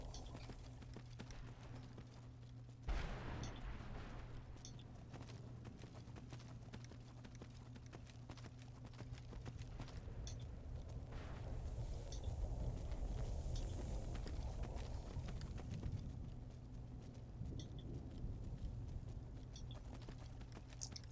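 Horse hooves galloping in the video game Skyrim, a steady rapid clip-clop running through the whole stretch over a constant game soundtrack hum, fairly close and moderately loud, with no talking.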